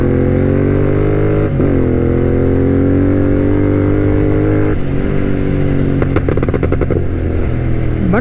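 Tuned Royal Enfield GT 650 motorcycle riding and accelerating, a loud, steady engine drone with rising revs, two brief gear-change dips, and a burst of rapid clattering pops near the end.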